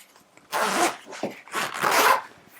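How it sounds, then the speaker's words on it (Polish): A zipper on a baby stroller blanket cover is pulled close by in two long, rasping strokes, with a short pause and a small tug between them, heard alone in a quiet room. "zapiąć kocyk z dwóch stron, suwakiem z boku"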